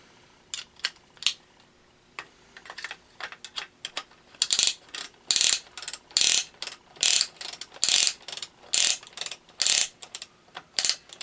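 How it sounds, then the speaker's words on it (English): A small hand ratchet clicking rapidly in bursts while loosening bolts on a disassembled Tecumseh H70 engine, sparse clicks at first, then steady repeated clicking runs, close and clear with no talking. "I'll just use a small ratchet."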